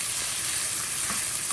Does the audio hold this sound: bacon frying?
yes